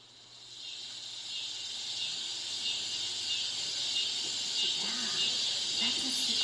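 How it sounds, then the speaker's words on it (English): Steady cicada buzzing, a dense high-pitched drone that swells in at the start and holds constant throughout, with a faint voice briefly underneath near the end. "That's a cicada bug."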